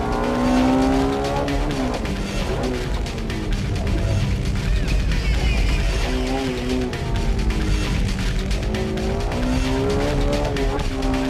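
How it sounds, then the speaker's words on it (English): Honda Type R driven hard through tight turns, its engine revving loudly and continuously with rising and falling pitch as it exits corners in first gear, tires squealing under load, close and dominant throughout. "He showed us some serious driving on the tight turns by using first gear at corner exits"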